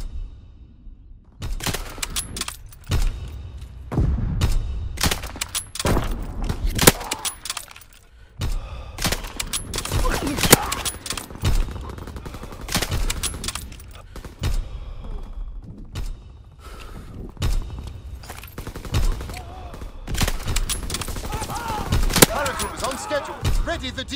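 In Call of Duty WW2, artillery and gunfire come as scattered sharp bangs and rumbling blasts at irregular intervals, fairly quiet overall, with radio-style voices speaking between the shots.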